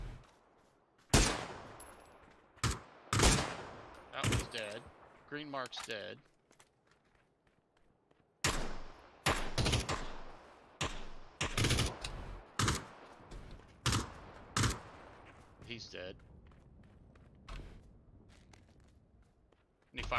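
Bursts of video game gunfire crack out in irregular clusters, some rapid and rattling, some single sharp shots, mixed with quick footsteps and short quiet gaps, loud and close throughout.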